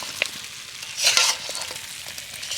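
Gaja sweets are stirred in a wok as the sugar syrup thickens, a soft sticky sizzle and shuffling scrape with a brighter swell midway, close and moderate in level, no voices.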